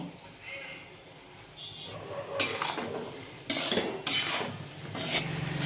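Egg and tamarind leaf curry stirred in a pan, with several sharp bursts of spoon scraping and clanking against metal, interspersed with quieter stretches and a voice speaking in the background.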